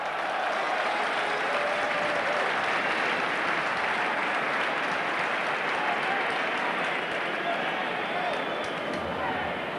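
Crowd applause rolls through a football stadium during a 2002 World Cup qualifier between Switzerland and Slovenia, a broad continuous wash of clapping and crowd noise heard under ongoing commentary.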